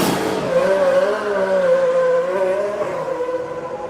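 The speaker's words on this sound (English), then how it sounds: "when we jump segments, that a pit stop noise will be used" F1 pit stop sound effect: a loud, sustained whirring, whining mechanical tone with a slight pitch wobble, holding steady for several seconds before easing off, no voices.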